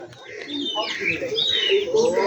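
Rajshahi Giribaz pigeons call near trees, with close, bright chirping and cooing notes overlapping throughout, while someone talks over them.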